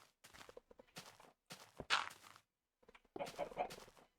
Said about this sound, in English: footstep noises are giving me the creeps